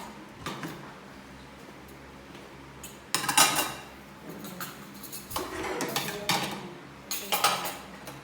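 Plates clatter and clink as they are handled and stacked while a table is being set, in several bursts of close, bright rattling separated by quieter pauses.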